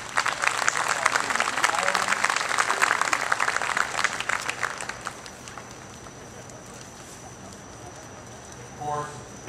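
A concert audience at a college jazz band performance breaks into loud, dense applause that fades after about five seconds, followed by a quiet room and a brief voice.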